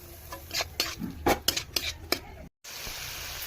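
A spoon stirs and scrapes through potatoes and fenugreek leaves frying in a pan, with several quick clinks and scrapes in a row that are close and clear, then a brief cutoff before a steady, faint background hiss.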